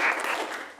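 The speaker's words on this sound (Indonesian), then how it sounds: "Tepuk tangan untuk semuanya." Classroom students clapping together, a short burst of dense applause filling the room at steady loudness.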